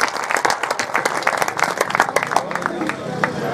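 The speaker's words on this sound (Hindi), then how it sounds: "तालियां हो जाएंगी।" An audience at an all-India poetry recital for soldiers breaks into loud, dense clapping that fills the whole stretch, with a voice faintly audible under the applause.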